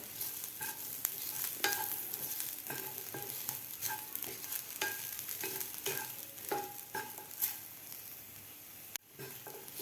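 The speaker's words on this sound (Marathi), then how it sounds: "फ्रेश लसूण वापरल्यामुळे व्यवस्थित आपल्याला हे थोडंसं आणखीन गुलाबी कलर होईपर्यंत आपल्याला हे सगळं जिन्नस भाजून घ्यायचे आहेत" Garlic, ginger, onion and coconut roasting in a pan for Kolhapuri misal, with a continuous close sizzle broken by scraping stirs and clinks of a spoon against the pan.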